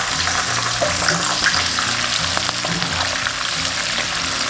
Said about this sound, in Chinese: 下入虾，全程中火炸煮1分钟。